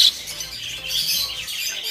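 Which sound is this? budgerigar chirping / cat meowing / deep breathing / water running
budgerigar chirping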